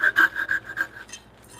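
Rapid rhythmic rasping strokes of a hand tool cutting wood laterally in a woodshop, about six quick scrapes close up, then fading to quiet.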